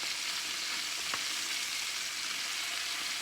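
Garlic honey chicken pieces searing in a hot pan, giving a steady, loud, even sizzle throughout with one brief clink partway through.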